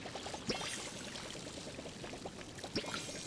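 In the farming game Palia, a watering can pours water over crops as a quiet continuous stream. Two brief splashy accents rise out of the flow, and no voices are present.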